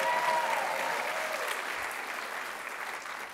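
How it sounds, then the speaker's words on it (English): A theater audience claps for the sound technician at a Broadway showcase event, dense sustained applause from a large crowd that stays strong and tapers only slightly across the moment. "Let's give him a round of applause."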